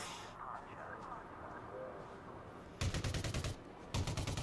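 Gunfire from a weapon in Elite Dangerous, heard as two rapid bursts of loud shots late on, after a stretch of low, steady background noise.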